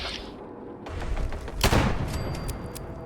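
Enemy gunfire crackles in Fallout 4, a scattered volley of shots and dull thumps at middling distance, with one sharper, louder burst partway through.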